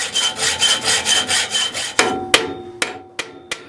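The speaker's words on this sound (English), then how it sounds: "Now you can cut the pin to length and rivet it in place." A steel hinge pin on a blacksmith-made butterfly hinge is sawn to length: a steady back-and-forth rasp of strokes, then several sharp separate metallic taps, close and clear with no talk.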